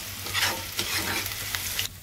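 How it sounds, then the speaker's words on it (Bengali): Onion and garlic fry in a pan with a steady, close hiss and sizzle, broken by a few sharp spits and stirring scrapes, and no voices over it. "এই যে পেঁয়াজ রসুন ভাজা হচ্ছে,"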